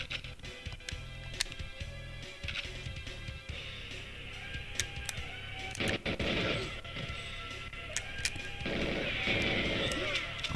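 A retro shooter video game plays on Recalbox, with repeated sharp gunshot cracks and crashing impacts over a steady electronic game soundtrack, growing busier toward the end.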